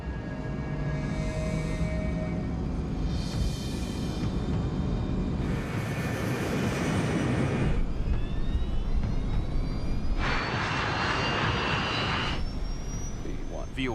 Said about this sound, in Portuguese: O DC-8 acelera até a velocidade de decolagem.